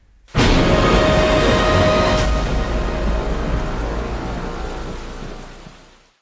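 Heavy rain pours down in Maharashtra, a loud, dense, steady hiss that starts abruptly and gradually fades toward the end, with no voices.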